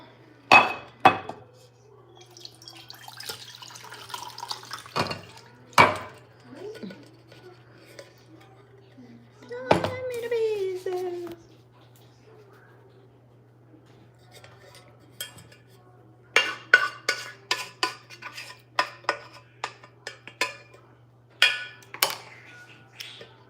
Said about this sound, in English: I need to use these pots, so I'm moving things from one place to another.